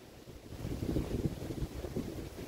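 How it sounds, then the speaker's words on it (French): Strong wind in the Yonne, France, roars and buffets the microphone in a continuous low rumble, with no voices present. "peux vous dire qu'il y a du vent."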